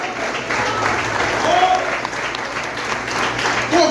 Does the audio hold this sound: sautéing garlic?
no